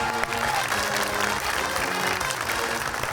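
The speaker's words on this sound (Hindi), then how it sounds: "आप भरपूर तालियां" A studio audience on a comedy talk show claps in a thick, continuous wave of applause, with faint crowd murmur beneath.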